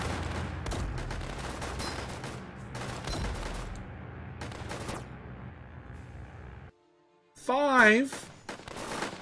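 Machine gun fire in Northend Tower Defense rattles in repeated bursts at mid distance over a low rumble. A voice briefly calls out over the shooting, and a warbling tone is heard near the end.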